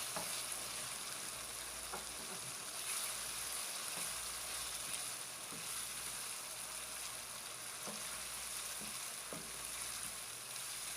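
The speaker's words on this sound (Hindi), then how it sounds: "अब हम इसमें सब्ज़ मिर्चें ऐड कर लेंगे 3 से 4, और 1 अदद बारीक कटी हुई टमाटर ऐड कर लेंगे" Ginger, garlic, green chilies and chopped tomato frying for mutton keema pulao, giving a faint, continuous hiss of sizzling oil with a few soft stirring knocks scattered through.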